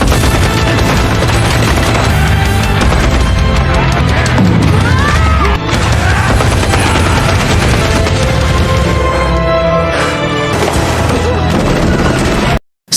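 A Gatling gun fires during a movie fight scene, loud sustained rapid bursts of gunfire mixed with booms and crashing impacts, with a brief pause midway and an abrupt cutoff.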